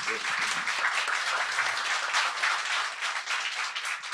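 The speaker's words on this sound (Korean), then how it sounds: "박수 부탁드립니다." Steady crowd applause, dense clapping from many hands sustained throughout at an even level, with faint voices mixed in.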